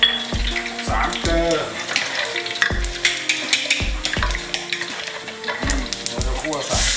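Stir-frying in a little oil in a pan while cooking Thai braised pork leg: loud sizzling with repeated scraping and clanks of the stirring utensil against the pan, and someone talking between strokes.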